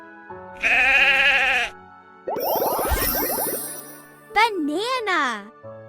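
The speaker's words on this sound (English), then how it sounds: "Sheep." A sheep bleats loudly in a short, wavering burst, alone after a voice names objects in a toddler's word-learning cartoon, with a tinkling chime and more child speech following.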